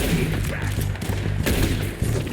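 Gunfire in the video game Red Dead Redemption 2 during a train raid: several sharp shots crack over low background music in quick succession.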